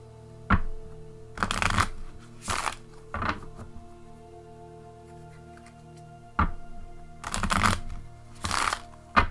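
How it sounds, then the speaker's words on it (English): A tarot deck is shuffled by hand at close range in quiet surroundings, several short bursts of crisp riffling and card flicks separated by pauses and soft taps. "give me a moment to shuffle the cards and get them on the table"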